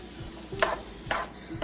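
Shrimp fried rice with peas and carrots being stirred in a pan, with three distinct scraping strokes of the utensil at a steady rhythm over a low, quiet sizzle.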